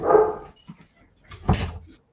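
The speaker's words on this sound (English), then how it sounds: "The dogs are commenting on these blind buys." Dogs barking at a distance, a couple of muffled barks with a short yelp between them, heard alone without talk.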